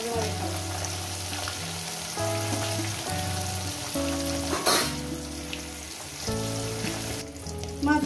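Small khoira fish frying in oil, a soft steady sizzle running beneath louder background music.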